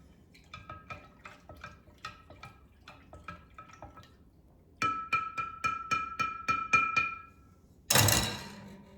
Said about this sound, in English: Going to stir it all up.